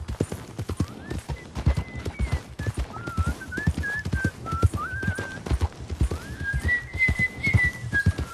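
A man whistles a wandering tune over steady hoof clip-clop from a horse at walking pace in Red Dead Redemption 2, the whistling clear and close above the rhythmic hoofbeats.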